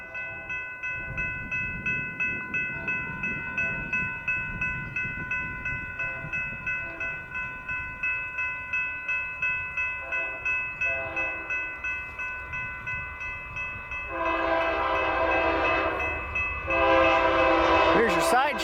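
A Union Pacific diesel freight train passes, its wheels clicking in a steady rhythm over the rails. The horn sounds loud and sustained near the end, with a faint voice in the background.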